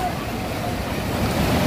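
Strong river current rushing at the Montola rubber dam on the Sonai River, a steady close broadband roar of churning water with wind buffeting the microphone throughout.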